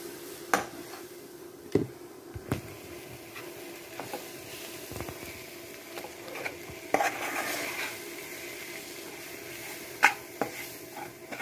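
Something sautéed with pepper powder in a pan, soft sizzling beneath irregular knocks and scrapes of a spoon against metal, several sharper clanks spread out, close and quiet, no voices.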